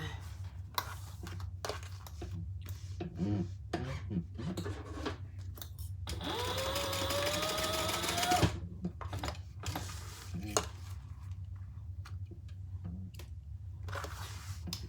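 A sewing machine bastes D-rings onto a fabric bag, one short burst of rapid stitching whirring for about two seconds amid quiet handling clicks and rustles at close range.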